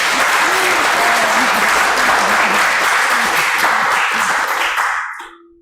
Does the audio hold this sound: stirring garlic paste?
no